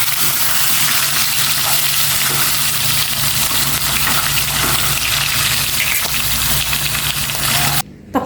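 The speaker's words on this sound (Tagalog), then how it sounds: "Ito namang tilapia ay prito ko." Loud, constant sizzle of tilapia frying in hot oil, a dense close crackle that fills the clip and cuts off briefly near the end.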